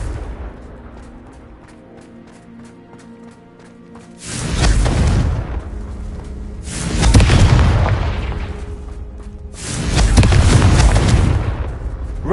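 Confringo spell blasts in the Hogwarts Legacy video game, three loud booming explosions at roughly three-second intervals, each with a heavy rumbling tail, after a quiet opening stretch.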